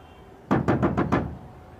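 Five sharp knocks on a door in quick, even succession, close and loud, followed by quiet.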